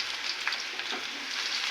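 Onions frying in hot oil while being stirred in a pan, a steady bright sizzle throughout with occasional soft scraping from the stirring.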